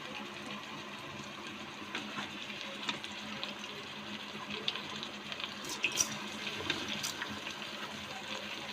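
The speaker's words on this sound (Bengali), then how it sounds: "পোলাওটা কষানো আমার হয়ে গেছে এবার দিতে পুরো জল" Water being poured into a pot of pulao rice, a steady, fairly quiet rushing flow with light splashes near the end.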